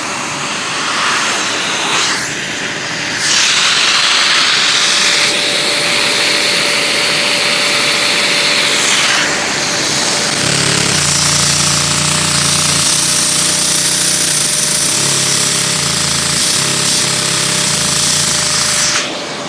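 A Lego two-cylinder dual action vacuum engine runs with a loud, continuous rapid mechanical chatter and a steady whine, its tone shifting partway through as the running changes.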